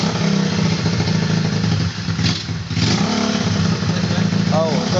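A customized 2003 Honda Mega Pro motorcycle engine running loud and close, holding a steady rev with a short dip partway through, while voices talk over it.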